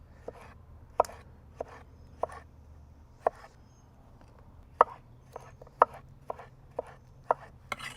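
Sharp knife chopping fresh cucumbers into diamond pieces on a bias on a cutting board, a dozen or so crisp, irregularly spaced taps, close and distinct over a quiet background.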